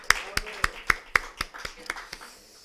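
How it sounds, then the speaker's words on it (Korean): A church congregation claps in ten evenly spaced beats, sharp and close, fading slightly toward the end. "우리 먼저 부활하신 주님께 영광의 박수 먼저 한번 올려드리겠습니다."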